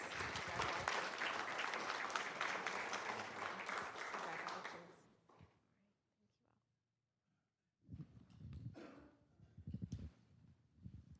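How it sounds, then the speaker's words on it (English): A room at a county board meeting breaks into loud applause for about five seconds, which fades into a quiet pause before a voice begins speaking. "Give them another round of applause"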